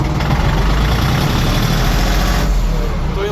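A small LOVOL tractor engine, 24-35 hp, chugs steadily at close range, a low rumbling idle that stays loud and constant throughout, with faint voices underneath.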